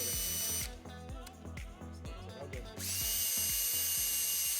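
A power tool set to a low speed dry-sands a sun-damaged headlight under light pressure, giving a close, steady whine with a rhythmic pulsing thump that drops away briefly before resuming.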